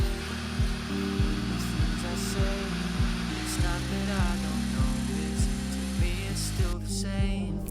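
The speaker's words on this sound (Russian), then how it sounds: "Осталось зачистить края и остальную поверхность. Для этого используем зачистной круг." A power sander with a sanding disc works the edges of a wooden coffee board, running steadily with a repeating rhythmic pulse from the strokes, moderately loud and close.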